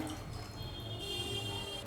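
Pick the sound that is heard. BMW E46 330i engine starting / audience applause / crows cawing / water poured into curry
water poured into curry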